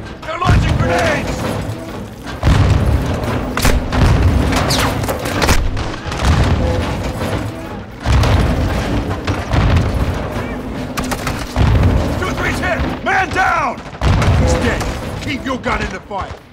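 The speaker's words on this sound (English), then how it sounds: "Incoming! Take cover! They're launching grenades!" Grenade blasts and rifle fire in the Call of Duty Modern Warfare II campaign, with loud booming explosions and dense bursts of gunshots rolling through in repeated waves, heavy and close.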